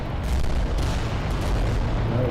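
Titan volcano cannons fire in the Adeptus Titanicus: Dominus video game, a dense, loud, continuous roar of booming blasts with deep rumbling and no clear gaps.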